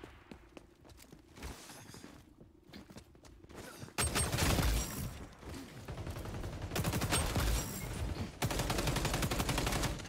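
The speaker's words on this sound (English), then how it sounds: "I'm getting shot by 3 of them at a time." Gunfire in the shooter game XDefiant: rapid automatic bursts that start suddenly and run loud and dense, with brief pauses and quieter scattered shots and footsteps before them.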